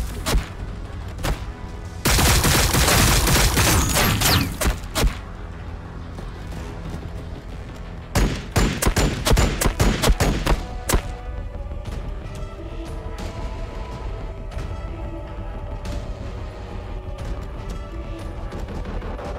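Warhammer 40,000 Battlesector battle gunfire: a sustained roaring burst of fire, then clusters of sharp cracks and thuds, trailing into a quieter rumbling hum with scattered shots.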